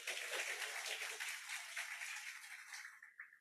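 An audience at a Successmore business leaders' event in Thailand claps steadily for about three seconds, the faint, even applause thinning out toward the end.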